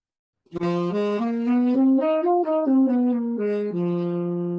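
A solo horn runs through a blues scale up and back down, its notes smooth and connected, ending on a long sustained low tone.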